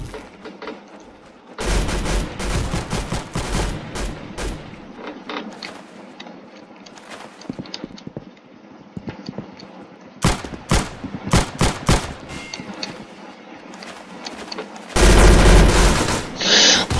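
Gunfire in the Roblox game Arsenal comes in rapid bursts and scattered single shots, with a loud blast near the end and mechanical clicks in the gaps.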